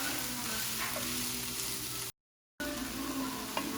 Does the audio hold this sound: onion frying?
yes